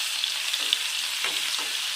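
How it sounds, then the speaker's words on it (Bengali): Nigella seeds and garlic frying in hot oil, a steady bright sizzle with faint stirring scrapes, close and continuous with no voices. "তেল গরম হয়ে গেলে দিতে হবে কালো জিরে। কালো জিরে দিয়ে রসুন ফোড়ন দিতে হবে।"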